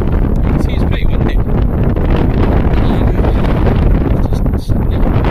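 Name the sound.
strong wind blowing on an island coast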